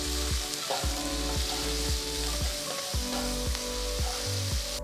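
Chopped onion and thinly sliced garlic sizzle in hot ghee with asafoetida while being stirred for South Indian pepper rice, a steady close crackle with regular spoon scrapes against the pan.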